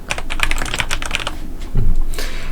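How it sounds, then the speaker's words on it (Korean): Fast typing on a computer keyboard while text is entered into a spreadsheet shape during an Excel lesson, a steady close run of quick key clicks with a louder thump partway through and no talking. "그 다음에 이제 여기다가 타이핑 할게요."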